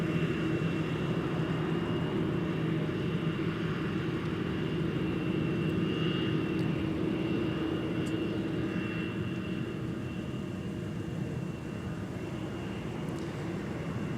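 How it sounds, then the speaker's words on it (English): A Delta Airbus A321 departs from Minneapolis–St. Paul airport, heard as a fairly distant, steady jet rumble with a thin high whine, holding level throughout. "There's a Delta A321 off to Fort Lauderdale."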